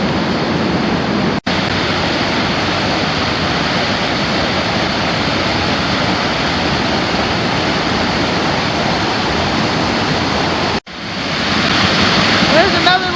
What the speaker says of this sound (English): We'll take a walk down here and look at the water as it tumbles over.